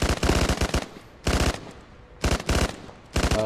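BMP armored vehicle firing in Arma on Chernarus, loud rapid bursts of automatic cannon fire in four strings separated by short pauses, close and sharp with no talk over it.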